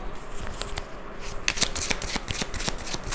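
Tarot cards being shuffled by hand, a steady run of soft riffling flicks and slaps, fairly close and continuous with no talking.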